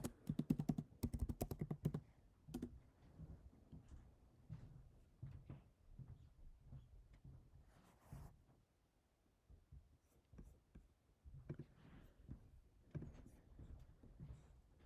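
Keys clatter on a computer keyboard in quick bursts of typing, separated by short pauses and a few soft clicks, close and fairly quiet.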